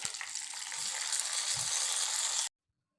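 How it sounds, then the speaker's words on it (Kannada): A steady, bright sizzle of cumin and dried red chilies frying in hot ghee, with a faint stir or two, ending abruptly. "1-2-3 ಒಣಮೆಣಸಿನ್ಕಾಯಿನ ಕಟ್ ಮಾಡಿ ಹಾಕ್ಕೊಂಡು ಫ್ರೈ ಮಾಡಿ ಈ ಒಗ್ಗರಣೆನ ತಂಬುಳಿಗೆ ಹಾಕಿದರೆ"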